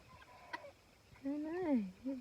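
A rooster in a free-ranging flock guarded by a dog gives a short alert call, a brief rising and falling throaty cry after a few faint clucks, close and fairly quiet.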